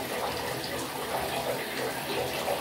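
A bathtub fills from a running tap, giving a steady, close rush of water that holds at an even level throughout without pause.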